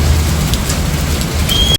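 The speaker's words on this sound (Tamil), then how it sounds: "உள்ளே வந்ததுக்கப்புறம் பாருங்கள் எவ்வளோ மழை பெய்ஞ்சிட்டு" Heavy rain pours down steadily, a dense continuous hiss close by with no voices.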